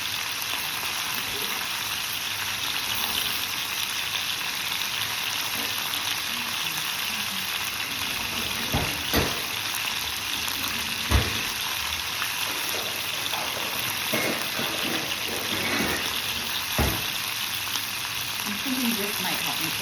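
Batches of food fry in hot oil in a pan, turning crispy, giving a steady, close, loud sizzle with a few brief clinks and stirring sounds along the way.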